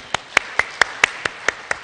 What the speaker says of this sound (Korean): 뜨거운 박수를 한번 주십시오.